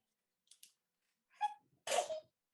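A single sharp sneeze bursts out after a couple of faint short sounds, close and fairly loud, then cuts off into quiet.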